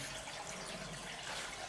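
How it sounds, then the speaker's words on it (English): Fresh water runs steadily into an old tower building, a continuous broadband rush with no break and no voices. "We've got water running into this building."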